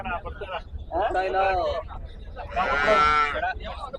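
Two long, loud cow moos close by at a cattle market in Erode, each rising and holding with a strong harmonic tone, separated by a brief pause.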